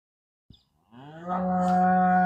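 A single long, deep moo from a black-and-white dairy cow at a cattle market rises after a brief knock and holds steady to the end, close and loud with no speech.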